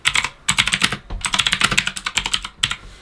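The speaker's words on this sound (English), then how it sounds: "I have to look down when I'm typing on the keyboard too" Rapid typing on a computer keyboard during a live basketball trade-deadline stream, close and clear, with bursts of clattering keystrokes broken by short pauses and no talk.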